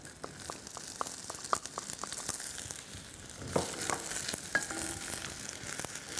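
Sliced onion fries steadily in olive, corn or sunflower oil, a continuous crackling sizzle broken by regular light stirring taps and scrapes against the pan, with no talk.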